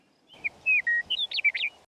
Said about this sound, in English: I utilized a bird call I recorded on the bluffs outside Denver, Colorado